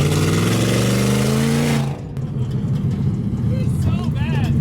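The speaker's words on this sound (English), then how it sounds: "Now we have a massive leak coming right out of the exhaust right there." Ford Bronco Baja truck engine with a blown exhaust gasket and a massive exhaust leak, loud and close, with a strong rumbling drone that cuts back abruptly midway to a rougher idle, with a voice over it.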